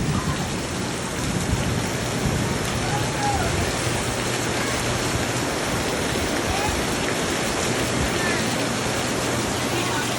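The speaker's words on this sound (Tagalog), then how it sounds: "Ang lakas na naman ng ulan." Heavy rain pours steadily in a dense, constant hiss, with a low rumble underneath.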